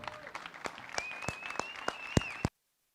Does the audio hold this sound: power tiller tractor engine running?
no